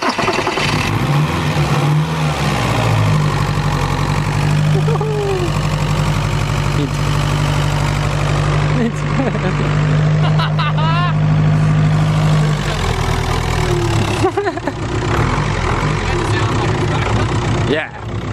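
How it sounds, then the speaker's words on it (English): A diesel car engine idles loudly and steadily at close range, with a deep continuous rumble and slight revving, while people talk over it. "Yeah, that's diesel for ya."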